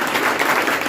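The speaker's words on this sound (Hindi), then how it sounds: "एक बार मैं चाहूंगा सबके लिए जोरदार ताली बजाइए" Audience applause at a children's day celebration at a school academy in Saharghat, a dense steady wash of clapping from a crowd lasting about a second, fairly loud and even with no speech over it.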